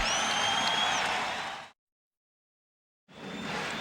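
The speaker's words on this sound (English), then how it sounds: "The crowd responding to the good start by the LA Lakers." Crowd in the Great Western Forum reacting during the 1991 NBA Finals between the Lakers and Bulls, a steady roar of cheering and applause that cuts out to silence partway through, then resumes.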